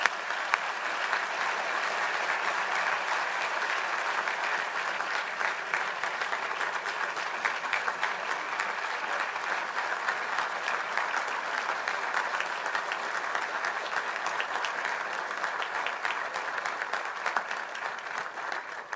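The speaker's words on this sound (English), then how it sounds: "let's give our graduates and outstanding alums a final round of applause" Sustained applause from a graduation ceremony audience honoring graduates and outstanding alumni, a steady dense wash of many hands clapping for nearly twenty seconds without pause.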